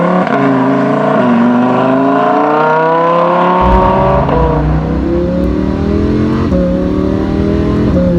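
Lamborghini Huracan accelerating hard with its dual-clutch gearbox, engine note climbing in a loud, close roar broken by several rapid gear shifts, each dropping the pitch before it rises again.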